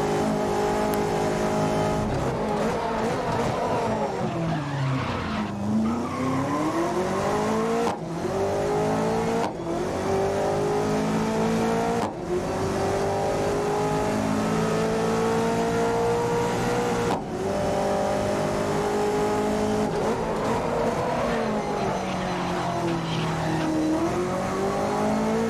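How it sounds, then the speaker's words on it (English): Race car engines in the game GRID (2019) scream continuously, pitch climbing through each gear and dropping sharply at shifts, with occasional downshifts and revving, no talking. "They've done an incredible job with the engine sounds as well."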